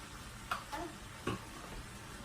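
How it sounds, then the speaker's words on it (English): A spoon stirs chicken fajita filling with soy sauce in a pan, giving a few soft scrapes and clicks over a faint steady sizzle, quiet and close. "Stir it around."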